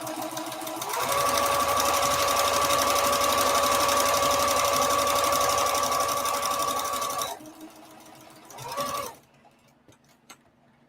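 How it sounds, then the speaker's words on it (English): A sewing machine runs a straight stitch at a short 1.8 stitch length along knit scuba fabric, a steady close whirring hum for several seconds that slows, stops, briefly restarts and falls quiet. "I'm just sewing it down with a straight stitch."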